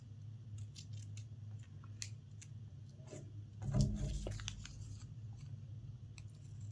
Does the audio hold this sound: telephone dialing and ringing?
no